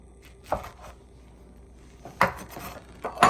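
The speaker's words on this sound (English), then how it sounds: "Then we're going to take our pieces and just slice them up." Knife cutting pineapple pieces on a board, a few separate chops and knocks, one early and two near the end, with quiet gaps between them, no talking.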